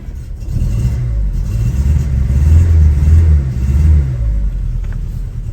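A Vauxhall Cavalier mk2 with its 1.6 overhead cam engine running rough and chuggy, loud and close, the revs rising and falling in uneven surges over a steady low rumble.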